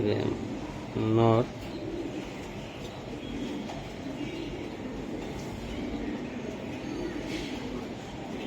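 A racing pigeon, one of a batch of 2023 males, gives a single brief throaty coo early on, then only a faint, low background hum continues for the rest of the stretch.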